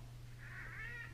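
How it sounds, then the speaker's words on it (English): A house cat gives a single short meow, soft and somewhat distant, over a steady low hum with no talking. "kitty, get out of my shot."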